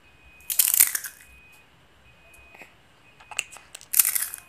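Crisp crunching of a brittle fried sweet kembang goyang rosette cookie being crushed, two bursts of crackling separated by a quieter pause, close up with no talking.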